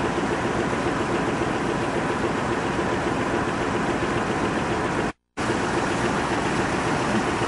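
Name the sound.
diesel locomotive idling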